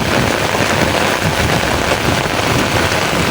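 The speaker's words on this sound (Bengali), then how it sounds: "দেখেন কি পরিমাণ বৃষ্টি হয়েছে" Heavy rain pours down outdoors at a rural home, a dense, steady roar of drops hitting surfaces that holds loud and even throughout, with no voices.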